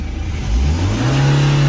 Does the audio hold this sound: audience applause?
no